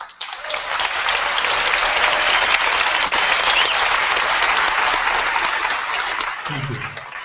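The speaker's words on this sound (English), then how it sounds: "That was applause if you couldn't hear it." Audience applause from a large conference crowd, a steady dense clapping that builds quickly, holds loud and even for several seconds, then fades out near the end, heard alone without talk.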